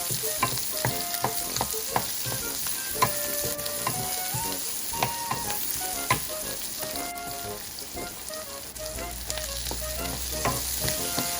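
Half an onion and chopped garlic sizzle steadily in a pan for a white squash (upo) stir-fry, with occasional stirring scrapes and clicks, all under background music.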